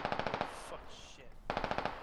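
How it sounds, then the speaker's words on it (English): Squad video game gunfire rattles in rapid automatic bursts, a fast evenly spaced string of shots, a short pause, then another burst, sounding fairly distant. "Shots came somewhere from west."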